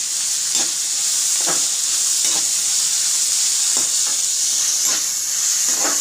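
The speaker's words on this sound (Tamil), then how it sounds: "கொஞ்சோண்டு கருவேப்பிலை போட்டுக்கலாம்." Curry leaves and green chillies sautéing in a pan for chicken gravy, a loud, constant hissing sizzle with soft periodic stirring scrapes.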